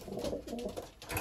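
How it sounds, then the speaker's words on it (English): Cooing of racing pigeons in a loft, including a blue bar and a mealy bird, both from 2018, heard as soft, low, overlapping coos that continue through a short stretch close by. "Those are the two oldest birds on this loft."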